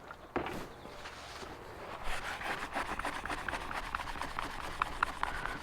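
Cloth rubbing with mineral spirits scrubs a stain off an aluminum window cap on a Scamp trailer, giving steady close rasping strokes with irregular scuffs and no voices.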